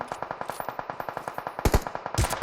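Rapid automatic gunfire from PUBG Mobile, a steady string of about twenty sharp shots followed by a few louder, heavier bursts near the end, with no talk over it.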